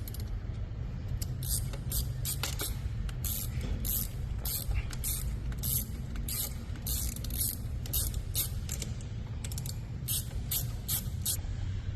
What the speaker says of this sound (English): You also have to remove those bolts to put the fender on.